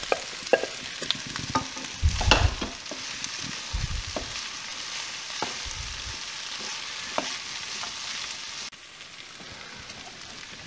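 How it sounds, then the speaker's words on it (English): Browned meat goes back into a pan of cooked onions and sizzles steadily, with scraping stirs and a few thumps early on, then a quieter hiss toward the end, close and with no one talking. "Let's get our meat back in the pan."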